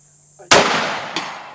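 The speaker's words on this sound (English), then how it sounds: "First shot ever, and you hit the steel at 200." Rifle shot fired on a ranch at a steel target 200 yards out: one sharp, loud crack with a long decaying tail, then a fainter, distant metallic impact about half a second later.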